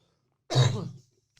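A single short, rough cough close to the microphone, followed by quiet.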